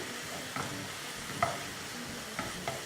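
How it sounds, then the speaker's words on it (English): Onion jam with vinegar sizzles steadily in a pan while a utensil stirs it, giving a close, even hiss with a few soft scraping clicks and no speech. "So we're just going to keep stirring this and add some more sugar in here."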